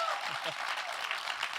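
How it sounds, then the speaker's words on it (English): Applause rises from the audience at a post-screening Q&A for a documentary, a dense, fairly faint wash of many hands, with a few voices calling out early on. "Can we get another round of applause?"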